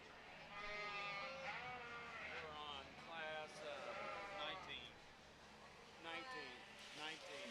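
Suffolk fall ewe lambs bleat in a breeding-sheep show ring at a livestock show, with repeated calls rising over a steady murmur of an announcer's voice and crowd.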